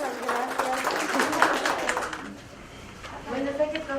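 An audience at a parents' talk gives a short burst of clapping that fades out within a couple of seconds, with a voice speaking over and after it.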